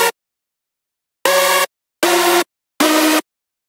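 Three bright, full synth chord stabs sound one after another after a short blip, each about half a second long with brief gaps, built as a layered hypersaw-style chord pad with a low sub layer for backing a lead.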